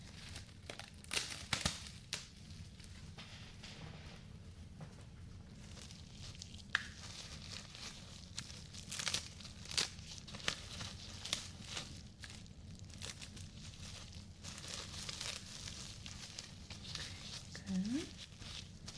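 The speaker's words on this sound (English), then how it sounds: "This time I'm gonna need to put some like plastic around it." Plastic sheeting crinkling and tearing while being readied during a dental exam, scattered soft crackles and rips, close up and quiet, with a low hum underneath.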